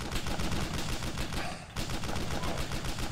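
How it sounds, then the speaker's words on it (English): Sustained machine gun fire in a tank video game, a dense continuous rattle of rapid shots with a brief gap midway before the firing resumes, loud and close. "I'm having all kind of machine gun fire on me."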